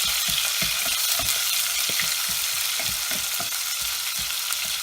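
Chopped onions hit hot oil in a pan over high heat for a Bengali pui saag with masoor dal, giving a loud, steady, close sizzle with soft stirring scrapes underneath and no voices.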